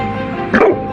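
Dog gives a short, loud yelping bark-whimper in a brief burst over low background noise.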